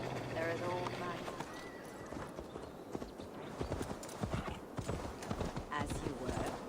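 Galloping horse hooves in Assassin's Creed Valhalla, set in the countryside of Gloucestershire, a rapid continuous drumming of hoofbeats with a whinny early on, partly under a voice and game ambience.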